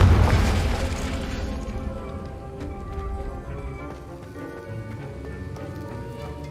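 Fiery Confringo spell explosion in the video game Hogwarts Legacy, a loud deep boom at the start that decays over a couple of seconds into crackling debris and ambient game sound.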